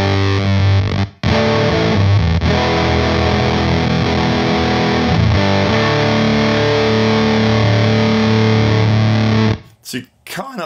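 Dense distorted guitar run through a Hip2B fuzz and bit crusher effect on a MOD Audio unit, a loud, gritty, buzzing sustained tone with a brief dropout early on, cutting off near the end into a few short choppy bursts.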